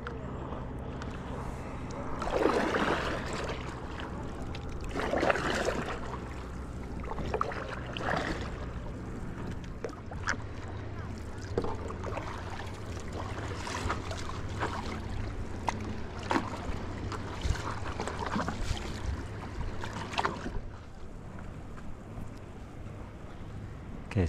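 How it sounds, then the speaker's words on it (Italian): A stand-up paddleboard is paddled across water at dawn, with rhythmic paddle strokes and splashes under steady wind noise on the microphone, close and moderately loud. "così si pagaia con molta più potenza, si va molto più veloce"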